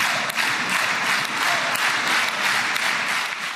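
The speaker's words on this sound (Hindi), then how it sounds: "तो डोनाल्ड ट्रंप के लिए तालियां" Applause for Donald Trump rises from an audience as a dense, steady wash of many hands clapping, loud and sustained throughout with no break.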